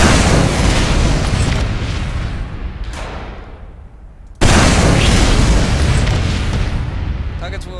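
Loud, continuous roaring blasts of explosions in the video game Team Fortress 2 fill the clip, fading briefly before a sudden renewed burst of rumbling explosions.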